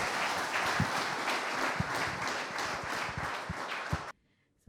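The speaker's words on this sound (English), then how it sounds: "Please clap for him again." Steady crowd applause fills a formal event hall during a visit by Kenya's president, continuous and even, then cuts off abruptly near the end.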